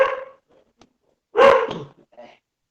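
A dog barks close by during a university dynamics lecture: two short, sharp barks about a second apart, then a faint yip, with no talking over them.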